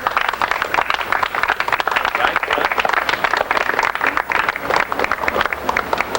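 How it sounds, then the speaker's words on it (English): A studio audience at a 1998 comedy show breaks into a sustained round of applause. Dense, steady clapping runs the whole stretch with no pauses. "Round of applause for the clones!"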